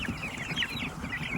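Meat chickens clucking in a brooder, a dense flock of overlapping clucks and chirps close by, steady and continuous with no talk.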